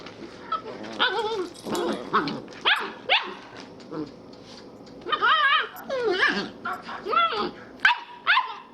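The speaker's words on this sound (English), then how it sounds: "Don't bark so much." A dog barks in short, sharp bursts with yips and whimpering between them, close and loud, in several clusters across the stretch, mixed with people talking.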